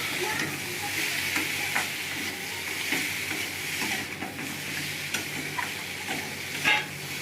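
A fish head fries and gets stirred in a pan, with a continuous close sizzle broken by repeated scraping spatula strokes and a louder clatter near the end. Nobody speaks.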